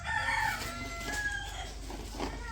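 Chickens calling at a village home where hens are sitting on eggs, clucking and crowing calls repeating close by over a steady background hum, with no talk.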